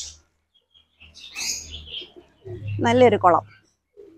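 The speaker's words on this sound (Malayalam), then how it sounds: "ഇവിടെ ഒരു പ്രാവ് കുറുകുന്നു, പ്രാവ് കുറുകി നമ്മളെ വിളിക്കുന്നുണ്ട്." A pigeon coos in a home garden beside a small pond set in a patch of trees, a short low burst of calls coming up close after a quiet stretch, with a person talking around it.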